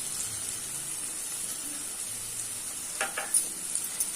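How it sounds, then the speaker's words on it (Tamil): Mushroom pepper fry with spice powder sautés in a pan, making a soft, low sizzle, and a few sharper stirring scrapes come near the end. "இந்த வதக்க வதக்க தான் நம்ம கலர் சேஞ்ச் ஆகும்"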